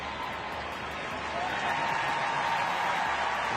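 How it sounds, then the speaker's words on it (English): Stadium crowd at a women's international football friendly between the United States and Costa Rica applauding steadily, a broad wash of distant clapping and crowd noise that swells slightly toward the end. "a round of applause for the goalkeeper, Noelia Bermudez"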